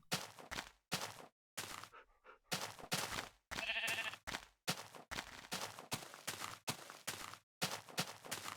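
Sheep bleating in a choppy, stop-start stream of short, close, fairly loud calls, broken by brief silent gaps, with one strained, wavering bleat near the middle.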